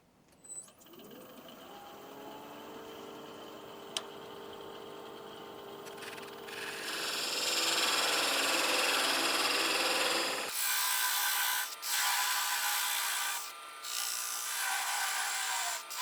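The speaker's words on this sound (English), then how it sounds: "let's get this parted off and then I can put a finish on" A wooden handle is parted off on a lathe, giving a steady whirring motor hum with a rising scraping cut as the tool bites into the spinning wood, then a sudden drop to a thinner hum.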